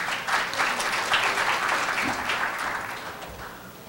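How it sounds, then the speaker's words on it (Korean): Audience applause at a national dementia-care workshop, steady clapping from a seated crowd that fills the full four seconds before fading slightly, with no speech over it. "큰 박수 부탁드립니다."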